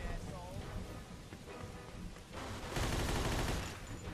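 Gunfire in Mafia 2, a sustained crackle of rapid shots that swells into a loud, dense burst toward the end, with a voice speaking partway through.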